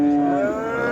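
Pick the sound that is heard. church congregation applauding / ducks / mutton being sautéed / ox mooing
ox mooing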